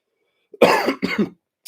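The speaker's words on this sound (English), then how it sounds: "I just went to cough" Two quick, close coughs in a row, the first slightly longer, followed by a brief pause.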